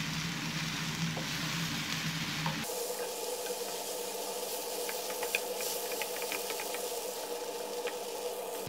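Bread pieces stirred and fried with onion-tomato masala for bread upma in a pan, a steady close sizzle with scraping stir sounds and small clicks, louder and denser after the first few seconds.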